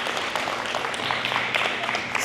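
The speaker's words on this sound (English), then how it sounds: "Give yourselves a big, huge, massive round of applause for that." Audience at a wellness conference applauding, a brief steady burst of many hands clapping at close range without a break.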